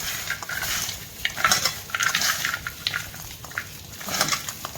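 Hands rub garlic cloves coated with a few drops of oil to loosen their papery peels, making close, scratchy rustling in uneven bursts.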